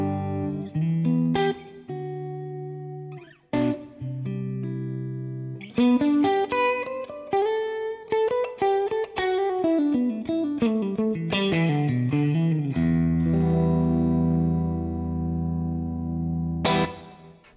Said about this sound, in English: The clean channel sounds like this.